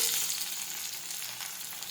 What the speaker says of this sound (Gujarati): હવે આપણે સાતળી લઈશું હવે આપણે સડવા દઈશું